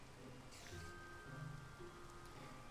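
Steady rain falls at night in Minecraft with Sonic shaders, a quiet, even patter with a few faint tonal game sounds drifting over it.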